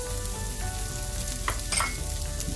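Broccoli florets sizzle in hot oil in a wok, a continuous close crackle with a few brief spatters and stirring scrapes, steady and moderately loud, with no talking.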